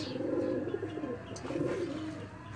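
Domestic pigeons coo in low, rolling, repeated calls close by, with faint chirps over a soft background hum.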